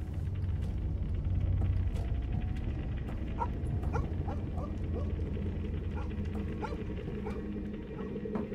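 Dogs barking in the horror video game Fear Of Fathom, repeated sharp barks and yips scattered over a low rumbling game ambience, moderately distant and unhurried.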